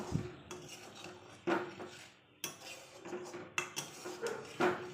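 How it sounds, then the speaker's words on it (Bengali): Spice masala and eggs stirred in a pan for a creamy malai egg curry, with a metal spoon scraping and clinking against the pan in uneven strokes, a soft sizzle beneath. "মশলাটাকে ডিমের সাথে ভালো করে কষিয়ে নেব"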